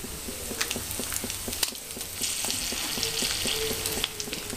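Mustard seeds, cumin and dried red chillies sizzle in hot oil with a dense, close crackle, sharp pops and spits scattered over a steady frying hiss, no voices.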